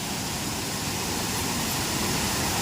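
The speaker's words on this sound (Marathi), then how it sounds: "सावडावचा मामाच्या गावचा वॉटरफॉल पाणी खूप आलेलं आहे" The Savdav waterfall in Sindhudurg, full after rain, gives a loud, unbroken broadband roar of rushing water heard close up with no pauses.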